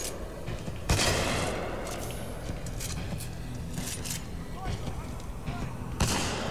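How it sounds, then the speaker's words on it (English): Heavy .50-calibral-style sniper rifle shots in Titanfall 2, two sharp loud reports about five seconds apart ringing out over a steady rumble of battle noise and distant gunfire. "here's your 50 cal style sniper"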